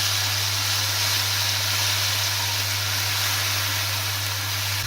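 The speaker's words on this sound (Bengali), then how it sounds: "সবগুলো বাটা মশলা এখন ভালো করে একটু ভেজে দিব।" Ground spice paste, including cumin paste, frying in a pan for a Bengali hilsa fish and taro curry, giving a steady, continuous sizzle and hiss with a low hum beneath, no voices.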